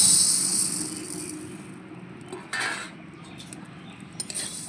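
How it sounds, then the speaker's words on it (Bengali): Dry mung dal is poured into a hot metal kadai, giving a brief rattling hiss, then stirred with quieter scrapes and a few sharp clinks of the spoon against the pan. "গরম কড়াইয়ের উপরেই ডালগুলো আমি ঢেলে দেব।"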